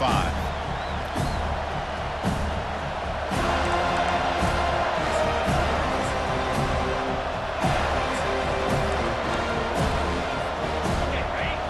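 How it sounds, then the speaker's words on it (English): A college football home crowd roars and cheers at the kickoff of a playoff game against USC. The sustained stadium noise rises and swells beneath a commentator's voice. "this home crowd is fired up and ready to make a difference today"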